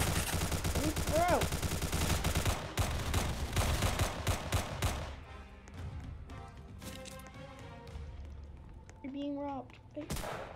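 Rapid gunfire from shotguns and miniguns in a Roblox shooter game, dense bursts of shots and loud blasts crowding the first half, then scattered shots and game effects with a voice heard at times.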